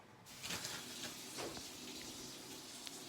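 Steady rush of tap water running into a sink, close and continuous for several seconds, as an eye is rinsed, with no one speaking.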